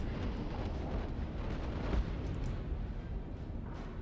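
A battleship's full gun barrage in the World of Warships naval game, a sustained low rumbling roar of heavy artillery rolling continuously at moderate loudness with no talk.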